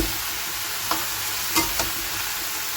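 Spinach vegetables frying with five-spice tempering, a dense steady sizzle filling the pan with a few light stirring taps, no voices.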